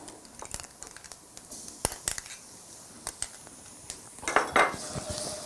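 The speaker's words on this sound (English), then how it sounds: "We need to add in now the tomato paste" A metal spoon clinks and scrapes against a cooking pot as tomato paste goes into okra masala made with orange-fleshed sweet potato, a series of close, bright taps over a steady low hiss.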